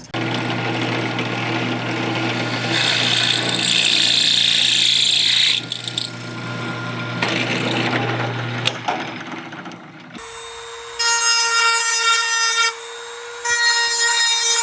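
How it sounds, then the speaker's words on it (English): A power drill with an oiled bit whirs steadily in a saw-making workshop, grinding through material for several seconds, then stops; a higher whine follows in short bursts. "use multi-purpose oil just to help the drill bit go in a little bit easier"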